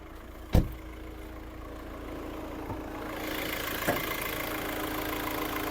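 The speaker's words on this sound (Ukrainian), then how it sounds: "Двигун працює чітко" Škoda Octavia with a 1.9 TDI diesel and automatic gearbox idles steadily with a low, even hum, opening with a sharp click and a couple of faint knocks later, heard alone and close.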